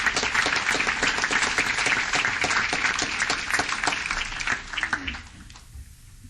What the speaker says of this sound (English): Please come forward and let's give them a round of applause.